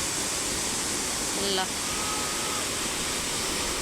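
A large waterfall near Pokhara, Nepal, roars as a dense, steady, close rush of falling water. A voice briefly cuts through it.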